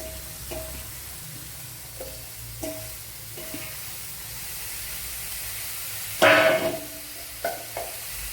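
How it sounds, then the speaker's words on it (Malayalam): Chopped green beans and carrots hit a hot pan and sizzle loudly, followed by several short stirring scrapes and clinks over a steady low frying hiss, with no one speaking. "ഇതിലേക്ക് ഇനി അരിഞ്ഞു വെച്ചിരിക്കുന്ന ഈ ബീൻസും ക്യാരറ്റും കൂടെ ഇട്ട് കൊടുക്കാം"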